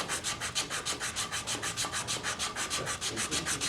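Wood being sanded by hand with steady back-and-forth strokes, about five per second, a close, continuous scratchy rubbing with no talk.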